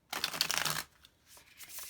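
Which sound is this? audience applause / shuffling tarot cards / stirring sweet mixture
shuffling tarot cards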